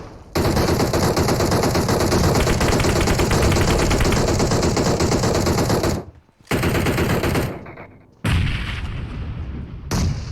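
In PUBG Mobile on the Erangel map, loud sustained automatic gunfire sprays in long rapid bursts that break off briefly twice before resuming, close and dominant.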